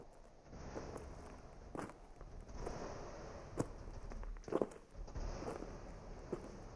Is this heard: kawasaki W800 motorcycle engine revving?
no